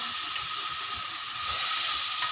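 Vegetables for black pepper chicken fry in a pan with a steady, even sizzle and hiss, close and continuous throughout.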